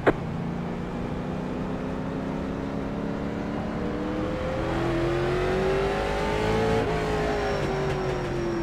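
Late model race cars on the Myrtle Beach track in iRacing drone steadily, a nearby engine note holding and gradually rising in pitch against the hum of the field, with no talk.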